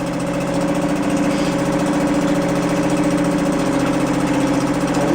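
A 2017 Suzuki 2.5 hp outboard motor runs steadily nearby, a loud, even buzzing drone with a fast regular pulse and no speech.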